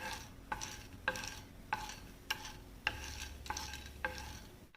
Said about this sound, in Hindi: और थोड़ा सा हम इसे चलाते हुए भून लेंगे।